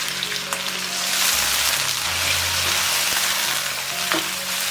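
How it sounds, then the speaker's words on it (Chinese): Cooking wine hits duck meat browning in a hot wok and flares into a loud, close, continuous sizzle, with a few light clinks of a spatula above the hiss. "让我们淋入料酒去腥。"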